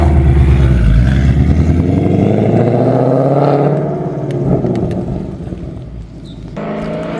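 A 2024 Mustang GT fitted with Kooks long-tube headers and an RTR rear spoiler rumbles loudly nearby, its deep exhaust rising and then easing off before a quieter stretch with light clatter, no talking.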